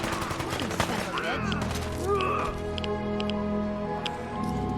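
Gunfire from the video game Fallout 4: Far Harbor, with dense overlapping shots and bursts sounding close and steady over the whole stretch, mixed with other game sounds.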